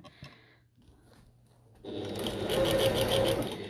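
A sewing machine runs a curved seam on a bucket tote, starting after a quiet stretch and then buzzing steadily and close until the end.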